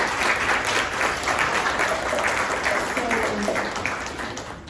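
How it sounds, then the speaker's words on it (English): Sustained applause from an audience at a senator's Earth-themed event recognizing environmentalists and students, dense steady clapping filling the room at an even level throughout. "please give yourselves a round of applause"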